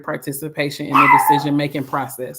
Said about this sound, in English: my apologies for my dog in the background.